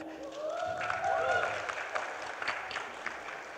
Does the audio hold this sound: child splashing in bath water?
no